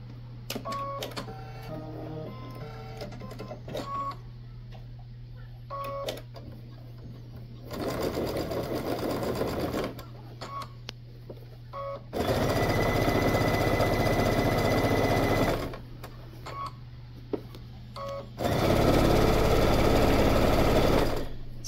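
A sewing machine stitches a fleece bag in several bursts, quiet stretches with a steady hum giving way to loud, rapid mechanical whirring runs, each lasting a few seconds, close and alone.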